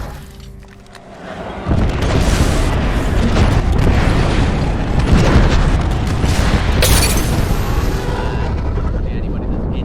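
Gibraltar's defensive bombardment ultimate in the Apex Legends video game, a loud, sustained barrage of booming explosions that rises suddenly and keeps rumbling, with talk over it.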